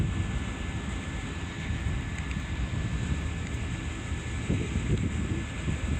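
Steady gusty wind buffeting a drone's microphone in flight, a continuous low rumbling roar with a faint high motor whine throughout.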